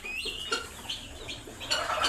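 A hen clucking at its laying nest on a poultry farm, a close series of soft, irregular clucks and murmuring calls heard on their own.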